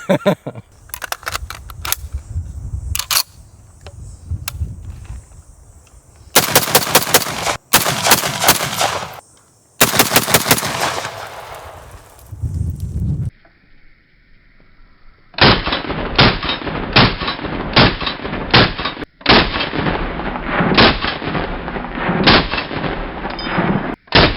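Loud, close bursts of machine gun fire come in rapid strings, broken by short pauses, then a long run of steady automatic fire with sharp, concussive shots.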